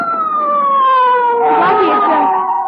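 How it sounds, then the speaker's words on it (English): A loud police car siren wails with a descending tone in an old-time radio drama, a brief burst of noisy voice-like sound cutting in partway through. "Blackie, it's Faraday in that police car."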